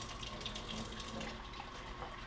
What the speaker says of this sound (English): add it to the bowl, we're going to mix this up, and we're going to constantly drain the rice